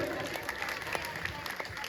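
Brief burst of clapping from a gathered crowd for a small boy at a school event, lively and uneven, with voices mixed in among the applause.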